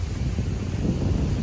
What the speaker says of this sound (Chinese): 我哋只系听到风声